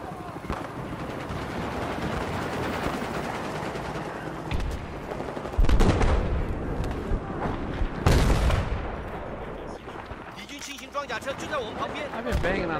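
Bursts of rapid gunfire at a helicopter crackle over a noisy Battlefield 4 soundscape, with a couple of louder heavy blasts, while voices talk underneath.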